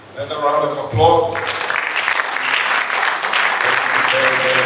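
Audience at a reform alliance event breaks into clapping after a brief spoken phrase, the applause rising quickly and continuing steadily with some voices mixed in.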